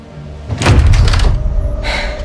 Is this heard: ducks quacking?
no